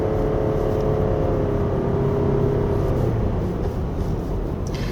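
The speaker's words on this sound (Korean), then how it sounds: "엑셀을 밟으면 엔진 소리가 먼저 왕 하고 커지고" A 2024 Toyota Alphard 2.5 hybrid accelerates on a winding road in eco mode, its engine drone swelling into a steady, loud low rumble heard from inside the cabin with road noise.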